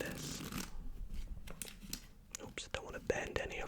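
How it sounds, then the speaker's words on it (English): Playing cards from a brand-new deck are given a quick shuffle up close, with crisp riffling and flicking sounds in short bursts, soft and intimate, with quiet whispered talk around them. "I'm going to take the cards and give them a quick shuffle, so let's just shuffle like this."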